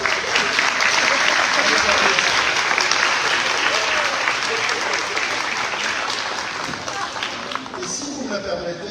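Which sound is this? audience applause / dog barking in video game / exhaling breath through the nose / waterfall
audience applause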